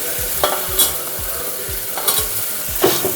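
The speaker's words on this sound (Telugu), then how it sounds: "సో అల్లం వెల్లుల్లి పేస్ట్ కొంచెం పచ్చివాసన వెళ్ళే వరకు ఫ్రై చేసుకొని ఇప్పుడు నేను మనం చేసుకున్న చిల్లీ పేస్ట్ వేసుకుంటున్నాను" Ginger-garlic paste and chilli paste frying in a pan, a steady close sizzle broken by repeated spatula scrapes and stirring knocks at an uneven rhythm.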